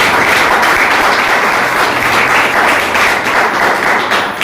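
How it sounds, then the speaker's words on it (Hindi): An audience at a product demo gives loud, dense applause, many hands clapping in a continuous close roar that holds steady for several seconds before easing slightly at the end. "ऐसे प्रोडक्ट के लिए एक बार जोरदार शानदार ताली"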